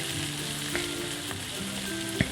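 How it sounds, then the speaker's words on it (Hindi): Kashmiri nunar greens sizzle steadily in hot oil, a close, continuous frying hiss with a few soft stirring clinks and taps, no voices. "अब हम बारी बारी जो नूनर है उसको डालेंगे और इसको हम तेल में अच्छे से पका लेंगे।"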